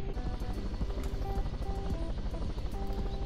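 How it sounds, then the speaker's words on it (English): A helicopter flies in a video game, giving a continuous whirring rotor drone with faint rhythmic chopping and brief tonal engine notes, steady and fairly close, with no talking. "Give me the helicopter again."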